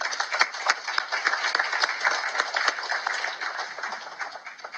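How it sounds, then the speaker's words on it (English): A conference audience on Tamil nationhood and genocide in Sri Lanka claps for a group of journalists, a dense, even patter of many hands heard through a thin, narrow-band recording, with no talk over it. "So maybe through a round of applause, let's recognize the work JDS and their allies have done."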